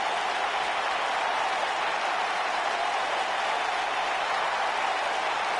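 Crowd at a wrestling event applauding in a steady, dense wash of clapping and noise that holds at an even level for several seconds, with no clear voices over it.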